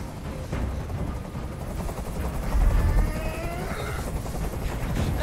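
Helicopter hovering nearby in the video game Detroit: Become Human, a continuous loud rotor chop with low rumbling thuds and a faint high whine, steady throughout.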